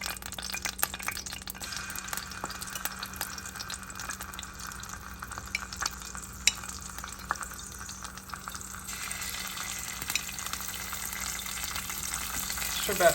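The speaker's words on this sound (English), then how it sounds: "I've got in another pan some olive oil here, ready to go. We're gonna saute our garlic." Garlic sautéing in olive oil in a pan gives a soft, continuous sizzle with light crackles and occasional faint utensil clinks, steady and fairly quiet throughout.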